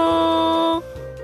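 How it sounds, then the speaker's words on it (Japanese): A telephone rings loudly and steadily in a Japanese comedy skit about objects with personalities. The ringtone holds a bright sustained tone, then shifts to a different, quieter tone partway through, with no one talking. "電話に出て。 おーい、鳴ってるよ。"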